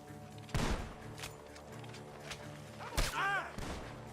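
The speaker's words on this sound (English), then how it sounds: "The gunshots are coming." Red Dead Redemption 2 gunfire on PS4 Pro: two sharp gunshots about two and a half seconds apart, each with a ringing tail, heard over a low game background.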